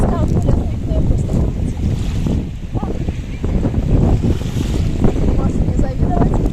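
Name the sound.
strong wind at the beach in Antalya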